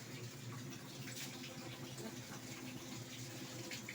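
A washing machine filling with water, a steady, continuous rush of running water at low level, uniform from start to finish with no talking.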